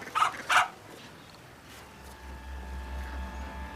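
A dog gives two quick, close barks at the start, then falls to faint whimpers and rustling, while a low rumble builds underneath in the second half.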